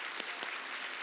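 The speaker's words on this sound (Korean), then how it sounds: "큰 박수로 환영해 주시기" Church congregation clapping to welcome guests during a Sunday service, a faint, brief burst of applause heard from a distance with no voices over it.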